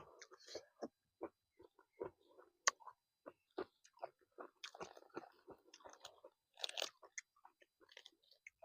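Close, crisp crunching and chewing of spicy pounded squid salad with fermented fish sauce, eaten with fresh vegetables, in an irregular run of loud bites and chews with no talking.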